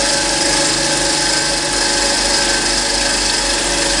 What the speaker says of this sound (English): Depending on your grinder, some people reckon that you shouldn't turn your machine off after you've dressed it.